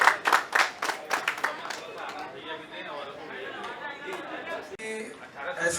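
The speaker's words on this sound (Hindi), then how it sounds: "गुजारिश करूंगा डॉक्टर साहब के लिए एक जोरदार तालियां" Applause for a doctor at an Indian awards ceremony, with crowd clapping in bursts at the start and then fading into busy chatter and a voice over the room.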